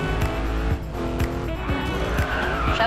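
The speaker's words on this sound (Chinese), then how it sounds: "肌肉车的甩尾就是不一样" A Chevrolet Camaro muscle car drifts in a racing video game, its engine droning loud and steady while tires squeal through the slide, all continuous with no voices.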